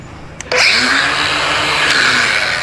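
An angle grinder cuts through a steel pipe in a workshop during an LS3 engine conversion on a Nissan Patrol. A loud, steady motor whine and cutting rasp kick in after half a second and run without a break.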